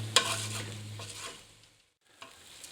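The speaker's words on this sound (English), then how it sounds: "I'm going to cook this for about 5 minutes or so until the rice has started to go nice and clear looking" Chicken and bacon risotto rice stirred in a pot, a soft scraping stir with light sizzle fading out over a couple of seconds, then a faint clink near the end; no talk.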